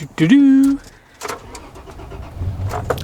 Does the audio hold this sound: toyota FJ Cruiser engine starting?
yes